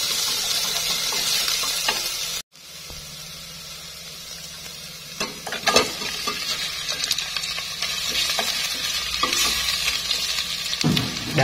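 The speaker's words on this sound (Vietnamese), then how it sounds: "cho thịt heo quay và mình xào" Roast pork stir-frying in a hot pot, a loud continuous sizzle with occasional scraping and clatter of stirring, close by.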